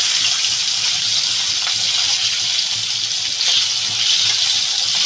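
Fish oil with green chillies sizzling in a pan, a steady broadband hiss of frying that stays loud and even throughout, with no voices.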